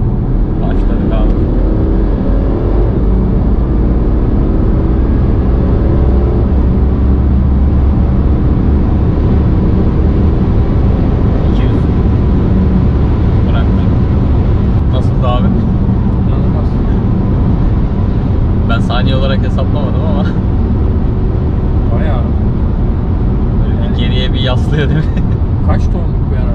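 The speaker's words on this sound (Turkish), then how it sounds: "Yani 1600 kiloluk bir otomobil bu şekilde hızlandı." A BMW Alpina D3 Bi Turbo of about 1600 kg, fitted with a hybrid turbo, accelerates hard from around 100 km/h with a steady engine and road roar while people talk inside the car.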